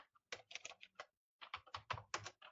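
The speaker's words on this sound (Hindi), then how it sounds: "तो नाम में हम कुछ व्यक्तियों का नाम लिखते हैं, जैसे राज, राहुल, सुभाष, रमेश," Typing names into an Excel spreadsheet on a computer keyboard: quick, close bursts of keystrokes broken by short pauses, with no voices.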